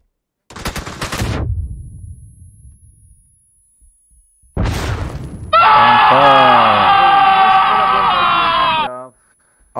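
Gunfire in the PUBG video game, a sharp burst followed by a longer rattling volley that fades out, then a loud sustained electronic tone; voices are present in the scene.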